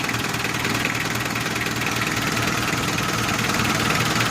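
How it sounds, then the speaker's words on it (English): A 4D56 diesel engine idles after its fuel pump's enrichment screw is adjusted, a close, steady low rumble with even knocking pulses throughout and no speech. "we're going to increase the idle of the engine"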